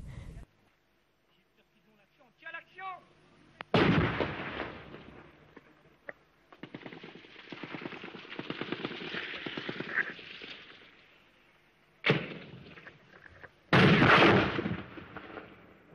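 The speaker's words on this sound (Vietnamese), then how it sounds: "Kính chắn gió của ô tô chúng tôi bị vỡ vụn do sức ép của mảnh pháo." Artillery shells exploding around Saigon in 1975, heavy enough to shatter a car windshield. Sudden loud, booming blasts stand out at three moments, each trailing into a rumbling, noisy wash of activity between the impacts.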